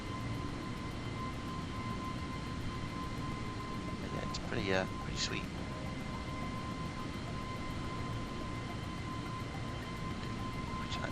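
Exterior engine noise of an A320 airliner in Microsoft Flight Simulator 2020, a loud steady roar and whine throughout, with someone talking briefly over it and a short squealing sweep midway.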